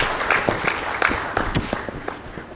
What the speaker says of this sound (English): Can we please clap to welcome her?